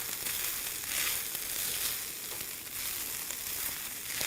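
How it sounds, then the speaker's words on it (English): Vegan ground round with spices sizzles and crackles in a hot pan while being stirred, a steady close frying hiss with soft scraping swells, no talking. "we're going to stir this all together, making sure all the ingredients and the spices are getting well incorporated into the vegan ground round"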